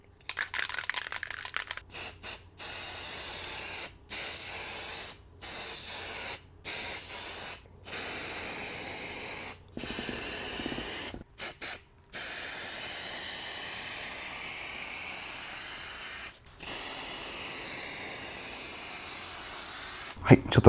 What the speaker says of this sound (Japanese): この100円ショップで購入した油性のラッカースプレー、こちらで塗装しておきます。